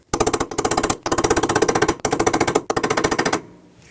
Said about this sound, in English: take a chisel and a hammer and tap it down